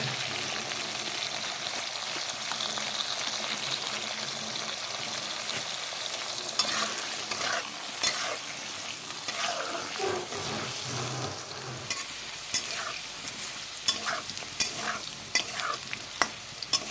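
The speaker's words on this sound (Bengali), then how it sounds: "আলুগুলোকে লাল করে ভেজে নিই তারপর আবার ফিরে আসবো" Potatoes stir-fried in hot oil in a wok with spices and salt, a steady sizzle with repeated scraping and clinking of a spatula against the pan, close and continuous, no talking.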